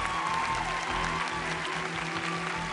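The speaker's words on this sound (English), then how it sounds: "It's your applause." Audience at a magic show applauding, a dense steady wash of clapping with a low hum beneath, continuous and even across the short stretch.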